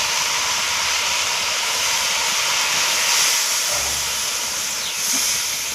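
Water is poured into a hot wok of fish-head curry with Malabar spinach, setting off a loud, steady hiss of steam and sizzling that holds evenly from start to finish.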